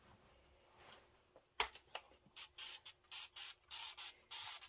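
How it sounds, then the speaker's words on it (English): Repeated short bursts of a spray bottle misting quilt fabric during pressing, about eight quick hissing pumps in a steady rhythm, close and fairly loud with no talking. "we'll give them a little shot of spray"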